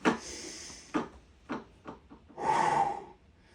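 Several breaths during weight training, sharp inhales and exhales at an irregular pace, close and fairly quiet, with a longer breath near the end and no talking.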